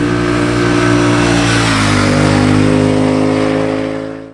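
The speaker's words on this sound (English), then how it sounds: "Amongst the sweetest twin-cylinder sound and the excitement of the torque, accelerating on the Speed Twin is a lot of fun." A 2019 Triumph Speed Twin 1200cc twin-cylinder motorcycle accelerates hard. The loud, steady engine note climbs smoothly in pitch as it pulls through the rev range, then fades out at the end, with no voices.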